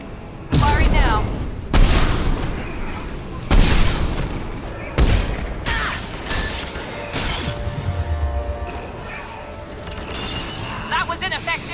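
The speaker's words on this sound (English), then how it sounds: "Firing now" Video game gunfire in a Mass Effect-style Insanity run, a series of heavy booming shots spaced a second or two apart with crashing impacts between them, under occasional talk.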